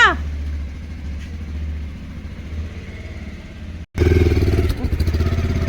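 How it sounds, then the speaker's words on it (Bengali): A motorcycle arriving: a low engine rumble runs beneath faint voices, then the engine gets sharply louder and revs close by. "বাইক এসছে"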